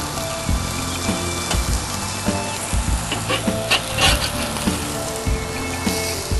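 Stuffed chicken breasts sizzle and fry steadily in a hot pan with a little flaming, while a thin metal spatula scrapes and knocks against the pan in several short, sharp strokes as the pieces are turned.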